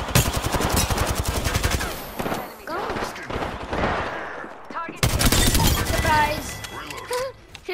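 Rapid bursts of video game gunfire, machine-gun fusillades and single shots, crackle loudly throughout a multiplayer battle-royale match, repeatedly overlapped by a player's voice talking.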